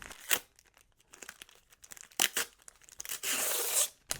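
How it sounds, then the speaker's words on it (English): Protective film is peeled off a plexiglass sheet using tape stuck to the corner, giving close crinkling, a few sharp ripping bursts and a longer tearing rasp near the end, with no talk. "you stick the tape to the corner and it pulls it right off"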